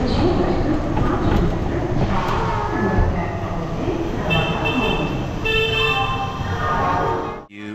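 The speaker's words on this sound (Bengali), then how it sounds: "আমরা এখন চলে এসেছি হাওড়া স্টেশনে।" Busy platform at Howrah railway station in Kolkata, with a steady crowd murmur, a train's rumble and brief horn toots partway through, voices talking throughout.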